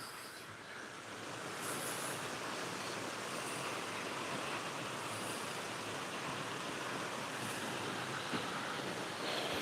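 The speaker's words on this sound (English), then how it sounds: "They're not letting out much water, but I'll tell you, this spillway is cool." Water pours over the Lake Lemon spillway near Nashville, Indiana, releasing only a modest flow, and makes a continuous, even rushing roar that holds steady throughout, with a touch of wind noise and no voices.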